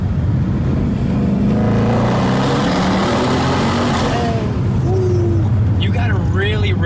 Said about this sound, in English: I'm gonna give it a good rip under this tunnel right here.